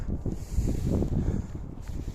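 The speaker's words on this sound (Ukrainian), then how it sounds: "Дуже сильний вітер, на небі хмари." Strong wind by a river buffets the microphone in a continuous low, gusty rumble that rises and falls without pause, with no other distinct sounds.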